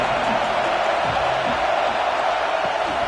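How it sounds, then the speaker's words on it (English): A huge college football crowd in Happy Valley roars on third down as Nebraska plays Penn State, a loud, continuous wall of stadium noise that never lets up. "Here comes the noise from this big crowd in Happy Valley on 3rd down."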